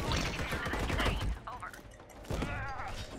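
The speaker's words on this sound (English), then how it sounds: "There's someone shooting from behind me" Gunfire rattles in bursts during the co-op shooter Army of Two, with rapid dense shots under overlapping voices of players talking.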